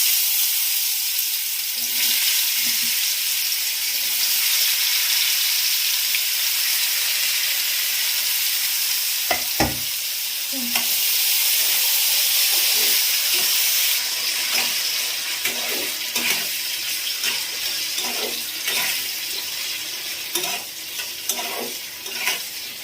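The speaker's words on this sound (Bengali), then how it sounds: "এবারে আমি এক এক করে এই উপকরণগুলো সব ভেজে নেব" Potatoes and other ingredients fry in hot white oil in a wok, giving a steady, close, dense sizzle with intermittent clinks and scrapes of stirring, no talk.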